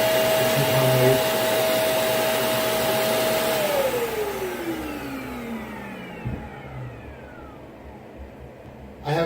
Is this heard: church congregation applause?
no